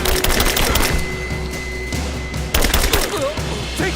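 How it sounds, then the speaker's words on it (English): Dense video-game gunfire from Rise of the Tomb Raider during a battle, rapid bursts of overlapping shots loud and close, pausing briefly midway before another burst. "Open fire! Taking casualties!"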